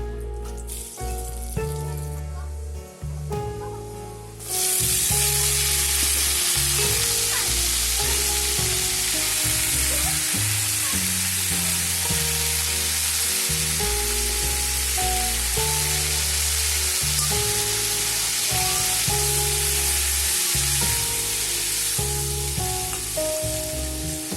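Broken rice grits fry in a pan over a clay village kitchen stove, bursting into a loud, dense, continuous sizzle after a few seconds of quieter clatter and hiss.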